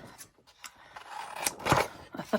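Scissors snipping paper in a series of short close crisp cuts, with soft rustling between snips.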